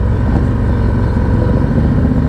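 A motorcycle fitted with a Klock Werks windshield rolls along at slow speed, its engine a steady, close, low throaty drone under light throttle with no voices.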